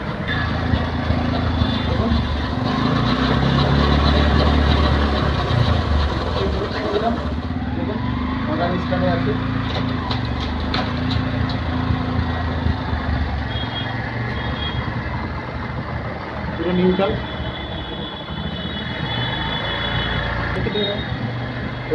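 A Bajaj Platina 110 ABS motorcycle, one with recurring clutch plate failure, runs in gear with a steady low engine rumble throughout. It is loudest in the first few seconds, then settles to a continuous drone.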